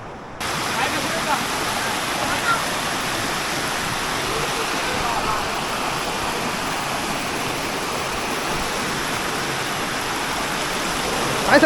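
A steady, broad rush of a large river flowing near Panvel, continuous, fairly close and even in level from start to finish.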